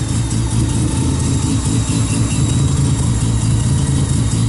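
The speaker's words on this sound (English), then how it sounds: "So that's first start on Tommy's car." A Mazda RX-7 FD rotary engine idles just after its first start following assembly, a loud, steady, rough low drone running continuously up close.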